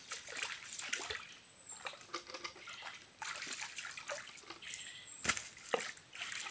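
Water splashing while people bathe in a stream: intermittent scoops and pours with trickling between them, close and fairly soft.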